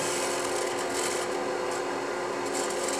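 A hand scraper shear-scrapes the wood of a cigar ashtray with a steady, soft rasping scrape that runs unbroken at moderate loudness.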